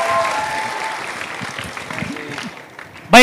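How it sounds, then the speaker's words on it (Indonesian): Students and guests of a university law faculty in Bandung clap as a crowd at a campus discussion, a steady wash of applause with faint murmuring voices underneath, ending in a sudden loud burst. "Tepuk tangan mahasiswa Fakultas Hukum."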